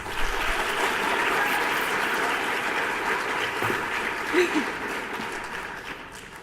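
A crowd claps steadily, with dense, even applause that holds for several seconds before easing slightly at the end.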